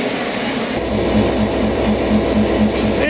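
A train rolls close by with a continuous loud rumble and a regular rhythmic thump from the wheels passing over rail joints, heard alone without talk.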